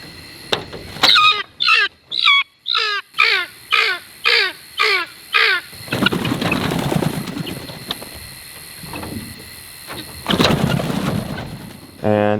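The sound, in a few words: guinea fowl calling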